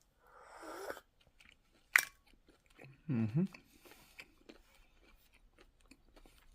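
Someone eats a whole balut, a fertilized duck egg with a little soup at the bottom, close to the mic: brief wet bites and crunching in a few bursts with quiet pauses between them.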